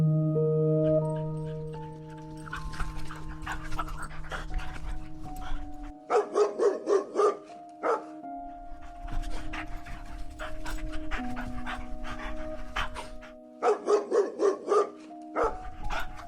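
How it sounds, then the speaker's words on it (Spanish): A dog pants heavily and barks in short bursts of rapid yips, repeated twice, set against a sustained droning musical background in a spooky narrated story. "de repente se detenía y ladraba con furia"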